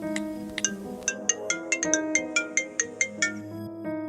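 A phone ringtone plays a repeating melodic pattern of bright, evenly spaced beeping tones over a quiet background, loud and close as an outgoing call rings through.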